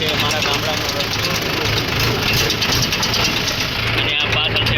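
A Mahindra 475 tractor pulling a cultivator along a village road, its diesel engine chugging in a steady loud rumble throughout, with someone talking over it.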